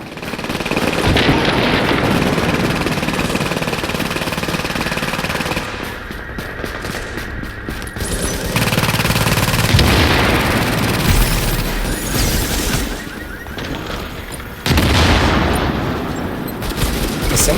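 Sustained automatic gunfire and booming blasts from the shooter video game Tom Clancy's The Division, loud and dense, with short lulls between bursts.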